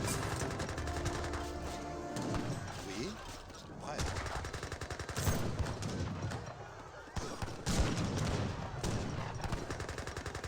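Massed musket and gunfire from town militia in an Age of Empires 3 battle, a dense continuous crackle of overlapping shots and impacts sustained throughout, with louder bursts near the middle and end over a busy battle din.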